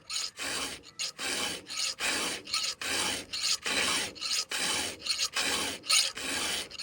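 A file rasps against a chainsaw tooth down into the gullet in repeated rhythmic strokes, each a loud, close scraping burst separated by short pauses.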